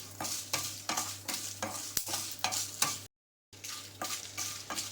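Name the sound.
roasting Byadgi red chillies in a pan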